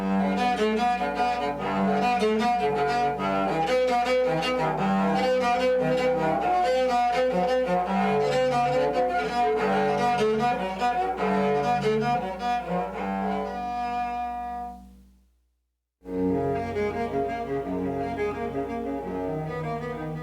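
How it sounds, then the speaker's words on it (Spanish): A homemade cello built from an oil can is bowed, playing a full, resonant melody of sustained notes, stopping briefly near the end before resuming. "Este cello está hecho de una lata de aceite"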